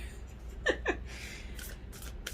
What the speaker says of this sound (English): I could listen to people shuffling cards all day.